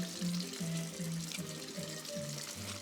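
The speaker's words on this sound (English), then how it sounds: "I hope you're liking the water ASMR over here" Water runs from a kitchen tap into a sink, a steady close splashing flow with low shifting tones beneath it and no one talking.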